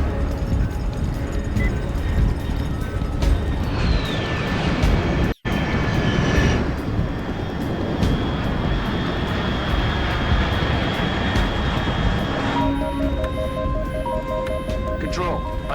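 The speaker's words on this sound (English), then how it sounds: "Unidentified aircraft detected." Fast unidentified aircraft at high altitude in Metal Gear Solid Delta: Snake Eater, a steady loud engine roar and rumble across the whole span, with a brief dropout in the middle and a tonal electronic beeping near the end.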